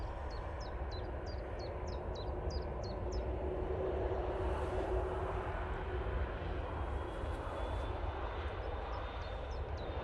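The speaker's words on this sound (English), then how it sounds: "British Airways now lined up, ready for its departure. Off to London, mate, using the 319." A British Airways Airbus A319 sits lined up for departure at Manchester Airport, giving off a faint, steady jet engine rumble in the distance while a bird chirps in quick repeated notes and a rising whine swells briefly midway.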